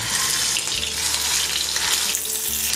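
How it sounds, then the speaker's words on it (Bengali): Prawns frying in hot oil in a frying pan give a loud, steady close sizzle, a dense hiss that runs unbroken throughout with no talking. "এবার 4টি 4টি করে 2 ব্যাচে মাছগুলো ভেজে নিব।"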